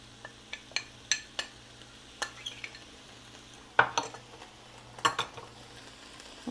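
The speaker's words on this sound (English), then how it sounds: "And sprinkle it in. And then we're just going to stir," Flour stirred into a pan of beef stroganoff, heard as a series of distinct spoon clinks and scrapes against the pan in an uneven rhythm over a faint low hum, with no talking.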